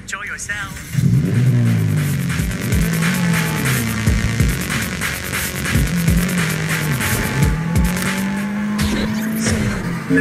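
A car engine revs and drives hard in the video game Sleeping Dogs, loud and steady, with tire squeals and pitch swings as it accelerates and shifts, while voices talk over it throughout.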